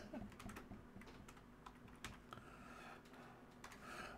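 Typing on a computer keyboard, with quick, irregular clicks and clacks continuing close by for several seconds with no talking.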